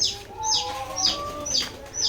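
Layer hens on a poultry farm cluck in a repeated pattern, one squawking call about every half second, close and fairly loud over faint background noise.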